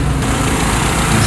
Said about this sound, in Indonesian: Nah, ini hidup AC, kita dengerin suara mesinnya.